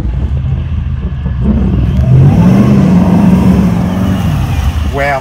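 A Holden VF Clubsport accelerates hard, its engine roar rising with a supercharger whine climbing in pitch, loud and close from inside the car, with voices over it.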